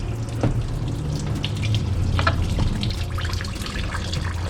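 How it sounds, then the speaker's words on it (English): Antifreeze pours steadily out of the radiator of a Sprinter T1N van, a continuous close splashing gush of liquid with a faint hum underneath. "Let's try to get all this antifreeze out of here though. Hear it all? Oh, I can see it spewing."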